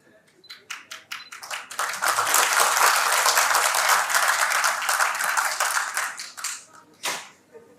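Sustained audience applause at a university lecture hall session in Lahore, building from scattered claps into a dense, loud ovation for several seconds, then thinning to a few claps and a final burst.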